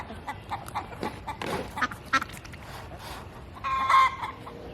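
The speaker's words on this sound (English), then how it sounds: "The chickens are chatty this evening." Chickens cluck and chatter in an evening backyard garden in northeast Ohio, with irregular bursts of calls, fairly close and moderately loud, and a louder squawk near the end.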